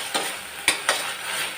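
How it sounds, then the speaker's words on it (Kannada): Chili sauce, soy sauce and vinegar frying in a pan for onion manchurian, with a loud steady sizzle and four quick spatula scrapes against the pan, close and with no voices. "ವಿನೆಗರ್ ಹಾಕ್ಕೊಂಡು ಇದನ್ನು ಚೆನ್ನಾಗಿ ಫ್ರೈ ಮಾಡಿ"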